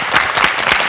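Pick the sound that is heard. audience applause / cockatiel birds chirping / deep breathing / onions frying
audience applause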